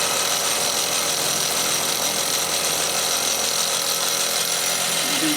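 A small piston engine on a workbench runs flat out, a dense, steady mechanical roar and clatter that stays loud and unbroken throughout, with no talking.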